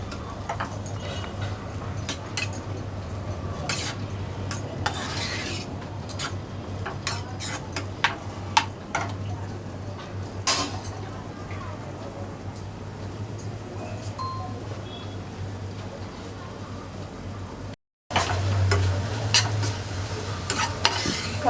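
Chopped onion and tomato softening in a pan for Maharashtrian zunka, with steady low sizzling and repeated scraping stirs of a spoon against the pan, a brief gap near the end, no talking.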